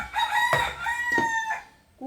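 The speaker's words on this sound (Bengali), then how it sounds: "কুকু কু করেই যাচ্ছে শুনছো তো মুরগিটা" A rooster crows nearby in one drawn-out, wavering call lasting most of the moment, followed by a short clucking sound at the end.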